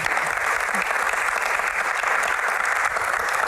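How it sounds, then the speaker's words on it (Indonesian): Steady audience applause at a hajj-themed Q&A forum, a dense even clapping from a large crowd heard throughout, with no voices over it. "Tepuk tangan dulu."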